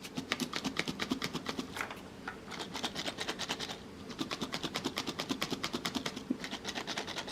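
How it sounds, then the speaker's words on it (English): Miniverse blind box packages in conversation-heart wrappers, shaken to hear the hidden contents: a rapid, close, maraca-like rattle in fast rhythmic bursts that pauses briefly and then carries on. "This is more of a maraca type sound"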